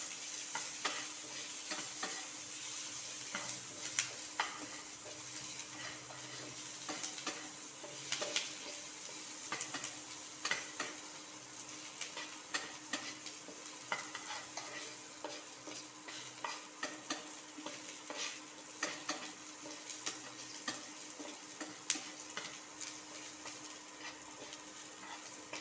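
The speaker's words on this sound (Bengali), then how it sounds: "পেঁয়াজটাকে আমি একটু মোটামুটি ব্রাউন কালার, একটু লাল করে ভেজে নেব।" Sliced onions fry in oil in a pan for a Bengali rui fish curry, browning lightly while being stirred. A steady sizzle runs throughout, with frequent scraping and clinking of the spoon against the pan, close and alone.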